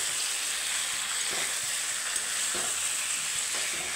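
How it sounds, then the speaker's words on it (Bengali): Cauliflower and potatoes stir-fried with spices in a pan, giving a steady close sizzle with a few soft scraping stirs and no voices. "মশলার সাথে আমি একটু ভালো করে 2 মিনিট কষিয়ে নেব"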